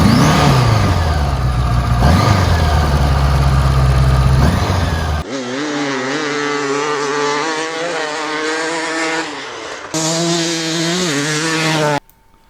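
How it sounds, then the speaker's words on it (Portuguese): A 1976 four-cylinder motorcycle engine revs hard and rises in pitch several times, settling into a throaty idle between blips before cutting off abruptly at the end. "Vamos ouvir agora a moto a roncar um bocadinho, só para verem o que é que são estes 4 cilindros"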